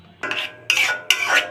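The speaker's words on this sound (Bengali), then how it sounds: "চুলা অন করে চুলায় বসিয়ে দিব।" A pan of beaten fish-roe egg mixture is set down on a stove, three close metallic clanks and scrapes in quick succession with no voices.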